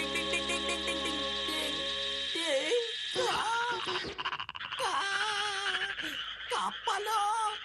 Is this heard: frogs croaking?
yes